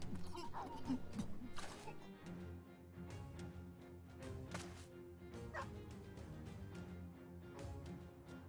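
Dogs in the battle game Battle Brothers bark and yip during fighting, mixed with crashes and blows from the fight under the game soundtrack and a voice talking over it.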